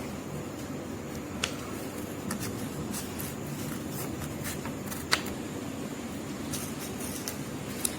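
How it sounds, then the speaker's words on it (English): Scissors cutting paper for a paper feather pen craft, with faint, sparse snips and soft rustling over a steady room hiss. "Now using scissors, you would need to cut it."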